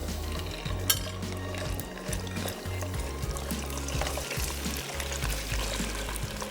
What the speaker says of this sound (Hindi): इसको करेंगे फ्राई।